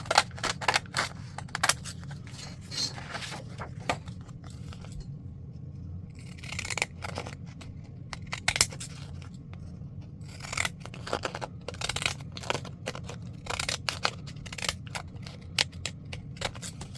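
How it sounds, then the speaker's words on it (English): Serrated scissors snip repeatedly through material for a handmade hair-themed piece, a rapid series of close, crisp cuts in irregular bursts with short pauses, heard alone without talk. "I'm going to use serrated scissors just because I feel like that matches a haircut"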